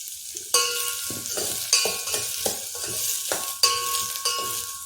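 Soaked, drained moong dal is stir-roasted in a pan for khichdi, a close sizzle broken by regular scraping strokes of a spoon about every half second to second, with light clinks against the metal.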